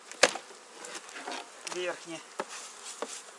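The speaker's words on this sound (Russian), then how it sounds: "Пчелок сметаем." Honeybees buzz around capped honey frames as the hive body is lifted off the beehive and bees are swept away, a close insect drone under brief spoken words, with a sharp knock near the start.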